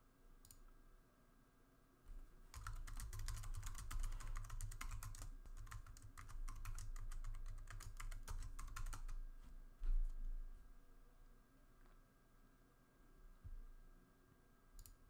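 Computer keyboard keys tapped while a password is entered in a browser wallet extension, a quick run of close, dense clicks lasting several seconds, then trailing off into a few scattered taps.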